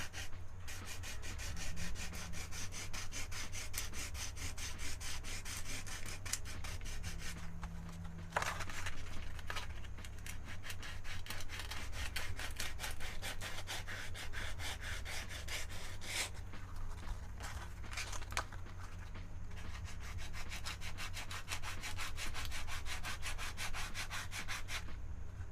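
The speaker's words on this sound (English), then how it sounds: "I'm just using some 100 grit sandpaper." Hand sanding with 100 grit sandpaper on a painting surface, a continuous scratchy rubbing in quick up-and-down strokes, close and steady for the whole stretch with no voices.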